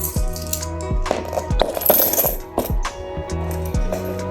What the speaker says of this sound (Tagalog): Coin purse para hindi nagkakalat ang ating mga barya.